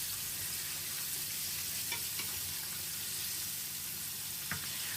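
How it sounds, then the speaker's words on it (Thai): Chicken pieces deep-frying in hot oil, a steady dense sizzle and bubbling that runs unbroken from start to finish, close and even, with faint clinks from stirring and no talking. "เราก็จะทอดจนให้มัน เหลืองกรอบนะครับ"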